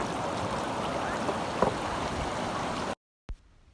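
River water rushes steadily over rocks at Milosok in Quezon, Bukidnon, a dense, continuous broadband wash that cuts off abruptly near the end, followed by a single short knock.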